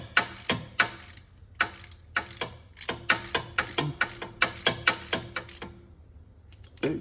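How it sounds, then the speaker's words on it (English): A ratchet tightens the crankshaft position sensor bolt on a 2010 Audi Q5, giving close, sharp clicking bursts in quick rhythmic runs with short pauses between strokes. "Put the ratchet on."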